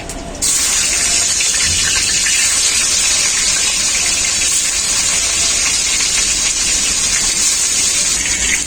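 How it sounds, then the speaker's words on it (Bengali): Rohu fish frying in hot oil in a pan, a loud, continuous bright hiss and crackle that holds steady throughout after a brief quieter start. "বাকি মাছগুলো আমি একইভাবে ভেজে নেব"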